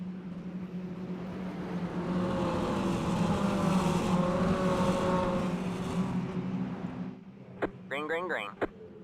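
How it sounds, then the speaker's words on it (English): Mini stock race cars roar around the Hickory track at night as a dense, loud pack of engines holding steady, with brief chirps and clicks near the end. "These cars are really loud here for whatever reason."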